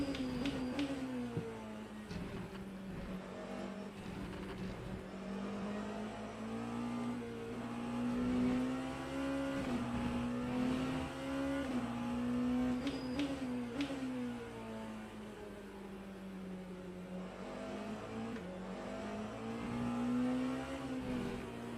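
A Porsche race car engine in Le Mans Ultimate, holding a steady, loud droning whine that rises and falls gently with revs through corners, heard alone without talk.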